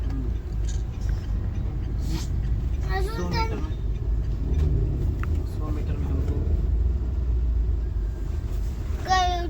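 Heavy highway traffic near Daman rumbles low and constant from inside a vehicle, with a few voices talking over it, including a child.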